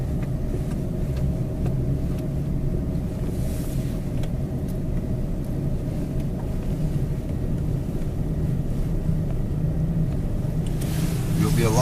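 A 4x4 truck crawling slowly in low gear along a snowy British Columbia backroad, its engine giving a steady low rumble with gear whine throughout, close and continuous.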